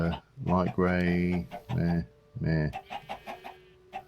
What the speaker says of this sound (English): Oh, those chickens are annoying.